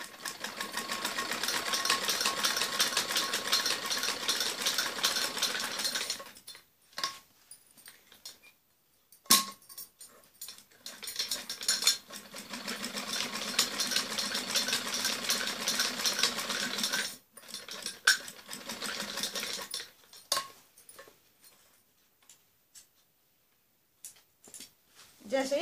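A sewing machine stitches a strip of fabric for a padded blouse in bursts of rapid mechanical whirring, stopping and starting several times with small clinks and handling noises in the pauses.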